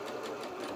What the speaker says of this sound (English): So now let's go to our machine, 1/4 inch seam allowance, and we're just going to reverse at the start and stop.